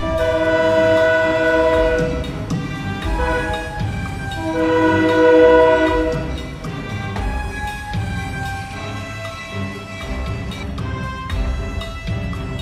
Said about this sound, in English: He sounded his horn and began backing the train down the tracks.